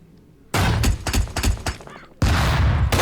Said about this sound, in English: His shotgunner came in there and just shot me.